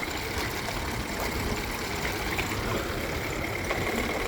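2018 Mercury 8hp long-shaft four-stroke outboard running in reverse gear, a steady close mechanical clatter and hum that holds level throughout without speech.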